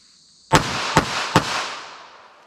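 .380 pistol fired at a target: three sharp, loud shots in quick succession, the second and third closer together, each ringing out with a decaying echo.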